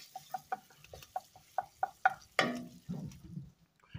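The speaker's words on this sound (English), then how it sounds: "we're gonna stir that bacon up a little bit" Bacon stirred in a pot over a big smoky fire for barbecue beans: about nine quick, evenly spaced scraping strokes, then a louder clattering scrape and a soft sizzle trailing off, close and alone.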